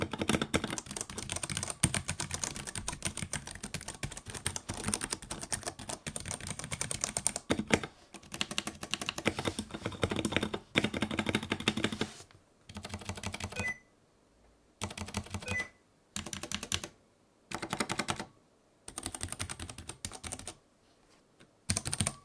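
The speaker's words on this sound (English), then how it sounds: "let's do some tests and you can hear what the keyboard actually sounds like" Keys clatter rapidly on a Ducky One 3 SF 65% hot-swap mechanical keyboard, dense typing at first, then breaking into short bursts separated by pauses, close and crisp with no voices.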